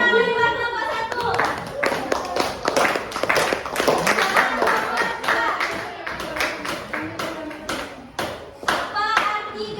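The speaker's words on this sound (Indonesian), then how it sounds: "Tepuk tangan buat kelompok 1." A school classroom full of students clapping steadily for several seconds for a quiz group, close and lively, with some voices mixed in.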